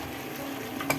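Chicken pieces for a roast drop into spice masala frying in a pan for home Eid cooking, giving a steady close sizzle for about a second with a brief clatter near the end.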